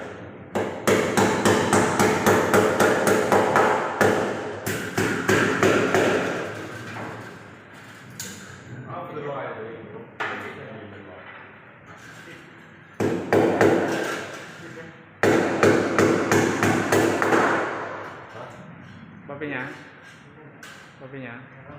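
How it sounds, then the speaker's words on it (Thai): Bursts of rapid hammer blows driving nails into a concrete wall, loud and close, coming in several runs separated by short pauses. "มาตอกตะปูใส่ผนังปูนแบบนี้"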